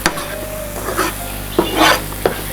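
Tempering sizzles steadily in hot oil for curry leaf chutney, close and fairly loud, with a spoon scraping and stirring the pan in several distinct strokes.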